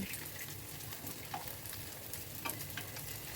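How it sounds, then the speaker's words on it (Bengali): Flattened rice and green peas frying on high flame, being tossed now and then, giving a soft, even crackling sizzle with faint stirring scrapes, fairly quiet and with no speech. "তাই এটা হাই ফ্লেমেই প্রথমে ভেজে নিতে হবে, আর তাই জন্য বারবার করে একটু ওলট পালট করে দিতে হবে যাতে পুড়ে না যায়।"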